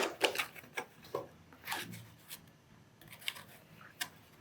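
A graphics card box is opened and its plastic wrap handled, giving close, quiet bursts of crinkling, rustling and small clicks at an irregular pace, with no voices.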